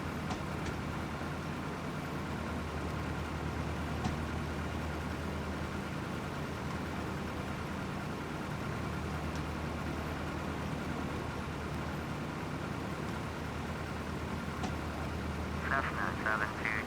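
Piper light aircraft engine in the FSX flight simulator, a steady droning hum that holds at an even level throughout with a faint rise near the end, while someone talks over it.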